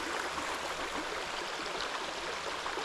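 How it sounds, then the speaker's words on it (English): A creek with fallen leaves in it flows steadily nearby, a continuous broadband rush and babble of water with no voices over it. "Beautiful creek though."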